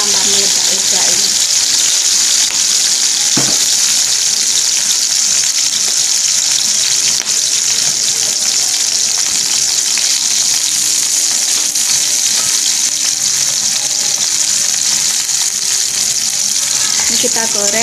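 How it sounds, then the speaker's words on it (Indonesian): Garlic and shallots fry in hot oil, a loud continuous sizzle with crackling pops and occasional stirring, close up, with a voice speaking briefly in the background. "Ini kita goreng sampai bawang putih dan bawang merahnya menguning ya"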